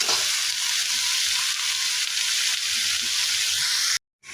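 Bottle gourd pieces sizzle and fry in a hot pan, a steady crackling hiss with occasional stirring scrapes, cutting off abruptly near the end.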